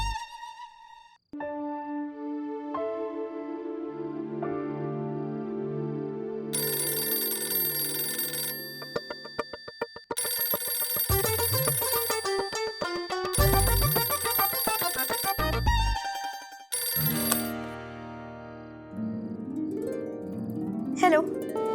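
A telephone rings late at night in a 1990s Hindi TV drama, sounding in repeated bursts of ringing tones over background music.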